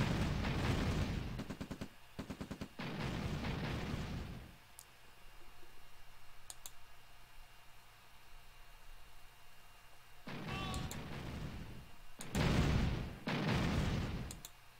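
Tank battle in a real-time strategy game, with dense bursts of gunfire and explosions in loud stretches at the start and end and a quieter lull in between.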